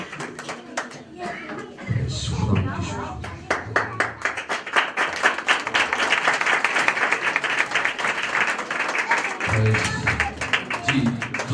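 Loud, sustained hand clapping from a church congregation for a preacher at a Christmas service swells after a brief voice and carries on steadily, with a speaking voice rising over it near the end.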